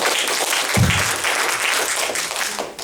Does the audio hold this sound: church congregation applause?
yes